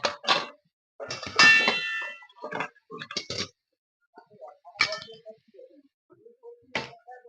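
A metal lid is set onto a cooking pan of frying vegetables, giving a bright clang followed by a few smaller clinks and taps in an otherwise quiet kitchen.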